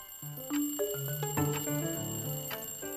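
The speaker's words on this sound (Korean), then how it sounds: "알람 소리로 시작되는 하루." A morning alarm clock rings out a bright, repeating electronic melody, steady and close, with no voices.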